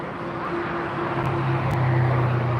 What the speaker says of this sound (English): This is a 777 arriving from London, American Airlines.